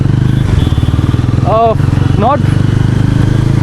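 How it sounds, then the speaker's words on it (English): A 2025 NS 400 motorcycle engine throbs close by with a fast, pulsing exhaust beat, while someone talks over it with short rising vocal sounds. "Let me take a U-turn here and rev the bike out a little bit."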